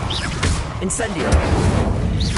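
An Incendio fire spell cast in the Hogwarts Legacy video game: short whooshing, crackling bursts and low thuds mixed with a speaking voice, fairly loud and close.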